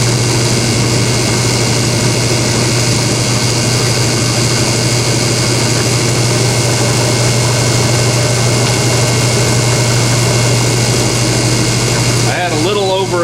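An alternator or starter spins clockwise on an OTC Mini-Tune bench tester, giving a loud, steady mechanical whirring hum that runs unbroken until a brief change at the end.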